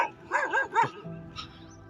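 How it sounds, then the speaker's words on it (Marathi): Dogs bark from some distance on a street: three or four quick yelping barks in a burst, then quieter background noise. "काय जवळ तर येत नाही, फक्त भुकताय लांबून."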